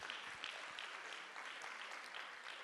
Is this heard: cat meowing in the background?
no